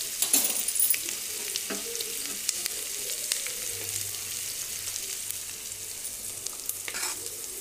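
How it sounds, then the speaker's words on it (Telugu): Onions fry in oil in a pan, a soft steady sizzle punctuated by scraping stirring strokes and clinks, with no talking. "ఉల్లిపాయలు వేగిపోయా కదా,"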